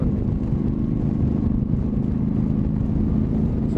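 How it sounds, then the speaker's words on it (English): Wind roars and buffets steadily around a rider on a Honda CTX motorcycle at road speed, a dense low rumble with engine drone beneath and no voice. "I don't even know if you guys can hear this because the wind is terrible right now."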